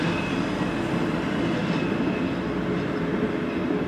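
A train passes near a hotel in Dresden, Germany, a steady loud rumble of wheels and rail noise holding evenly for a few seconds with a faint high whine above it.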